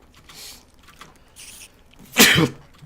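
A single sharp sneeze bursts out close by after a couple of soft breaths and rustles.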